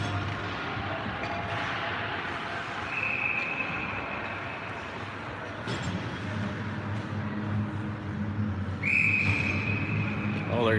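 Referee's whistle blown at an exhibition ice hockey game, sounding twice as sharp, sustained tones over crowd and arena noise, with the second blast louder and nearer.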